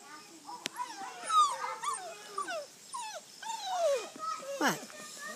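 Six-week-old standard poodle puppies whimper and yip in a string of high, wavering cries close by, with a person talking softly over them.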